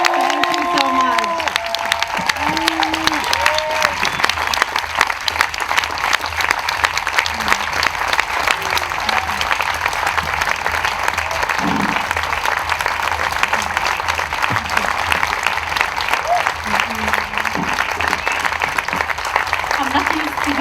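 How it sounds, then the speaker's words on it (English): Festival audience at a talk applauding steadily and loudly for the whole stretch, dense clapping with a few scattered shouts mixed in. "A big applause for Aida."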